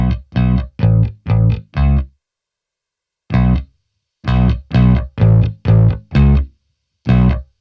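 Synth notes pushed through a Moog filter with the drive cranked high come out thick and distorted, played in short punchy bursts with clean gaps, loud and alone.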